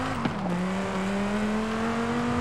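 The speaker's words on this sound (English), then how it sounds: "I'm revving like crazy here." A race car engine in Forza holds a high, steady rev, its droning tone climbing slowly and evenly throughout, loud and alone.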